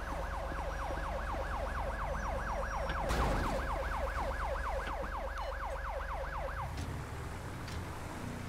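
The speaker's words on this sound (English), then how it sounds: "we will call an ambulance for you" Ambulance siren from Grand Theft Auto V wails in a steady, rapid up-and-down sweep for about seven seconds over constant engine and road rumble, then cuts out, leaving the background noise.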